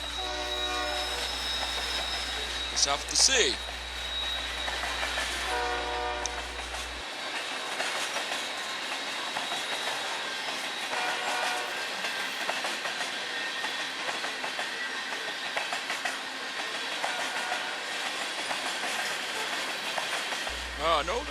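Freight train with diesel locomotives, including GEVO units, rolling past with a steady broad rumble and wheel noise throughout, a horn-like tonal burst near the start, and brief talk mixed in.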